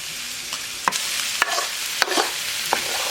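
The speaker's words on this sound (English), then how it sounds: "get some sizzle going" Bell pepper, garlic and onion sizzle steadily in a hot pan, broken by a few sharp scraping stirs at irregular intervals.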